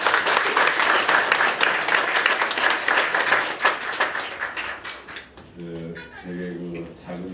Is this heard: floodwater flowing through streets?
no